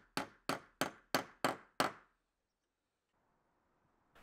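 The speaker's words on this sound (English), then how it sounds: "that's what I'm using here to secure the hanger to the wall plate" Six evenly spaced hammer blows drive twist nails into a metal joist hanger fixed to a timber wall plate, each a sharp ringing clang, close and loud, followed by near silence.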